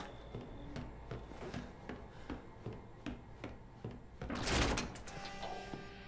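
A door opens in the video game Resident Evil 7: Biohazard, a slow creaking, rubbing slide with wooden knocks and a louder grinding surge near the end, close and otherwise quiet.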